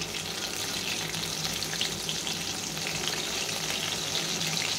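Egg-and-flour battered chicken pieces frying in a large karai make a dense, even sizzle that carries on unbroken and loud from start to finish.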